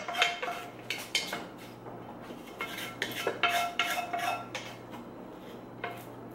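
A pot and a stainless steel mixing bowl clanking as cooked onions and garlic are scraped across: irregular bright metallic knocks and scrapes in close bursts over a low steady hum, with no talking.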